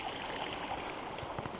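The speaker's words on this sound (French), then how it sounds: "on va traverser d'ailleurs ce ruisseau" The Eau Rouge stream near Malmedy, heard up close as a hiker crosses it on a loop walk, a soft continuous babble and trickle of flowing water, fairly quiet and steady, with no voices.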